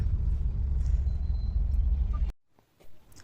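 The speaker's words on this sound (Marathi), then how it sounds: "खूप ट्रॅफिक आहे" Road traffic rumble with low engine drone from passing cars, steady for about two seconds before cutting off abruptly into near silence.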